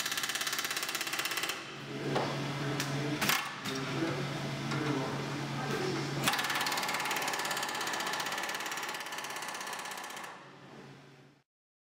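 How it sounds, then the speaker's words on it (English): Ratchet wrench clicking steadily while nuts and bolts are tightened on a Zacklift fifth wheeler crossmember, close and fairly loud, with a few sharp metallic knocks and a low steady hum underneath. "After properly positioning the crossmember, tighten all nuts and bolts."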